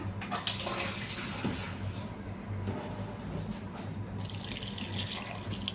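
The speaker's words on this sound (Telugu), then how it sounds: "ఇప్పుడు వాటర్ కొంచెం వేసుకున్నాం ఇందులో" Water pours steadily into a pan of brinjal curry, a soft continuous splashing and trickling that carries on for several seconds without any voices.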